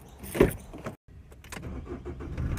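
A truck engine roars in a short loud rev, cuts out briefly, then settles into a steady low rumble nearby, heard alone without talking.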